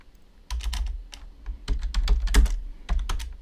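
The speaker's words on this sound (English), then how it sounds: "if I was to type in product 5 here" Someone types on a computer keyboard in a quick, close run of crisp key clicks that pauses briefly and then picks up again, with no speech.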